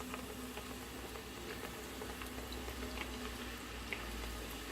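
Filhós dough fries in hot oil that has been turned down for running too hot, giving a steady, close crackling and bubbling patter with tiny pops and no talk.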